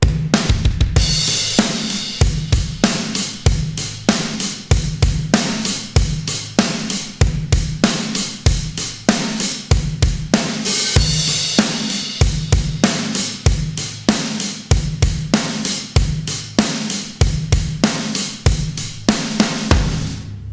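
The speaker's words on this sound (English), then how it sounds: "For these drums, I'm using the same garage kit by Native Instruments, and for this I'm using Firechild by Tone Empire" Programmed chorus drums from a Native Instruments garage kit processed with Tone Empire's Firechild plugin play a steady pop pattern with punchy kicks and bright snares and cymbals, repeating loudly throughout with no voice.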